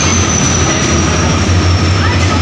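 A train at a railway station where passengers wait with luggage, heard as a steady, continuous rumble with a low droning hum throughout and a faint high whine above.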